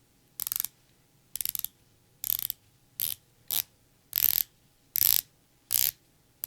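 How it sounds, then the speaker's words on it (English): Longines Hydroconquest GMT watch bezel being turned, nine short bursts of rapid ratcheting clicks, each about a third of a second, close and crisp with brief silent gaps between. "Now I'd like to show you the tactile bezel action as well as the lume."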